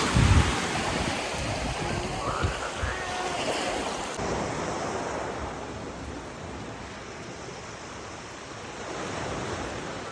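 Waves wash onto a small beach at Playa Kalki, Curaçao, a steady, fairly even surf roar with some wind noise on the microphone throughout and no talking.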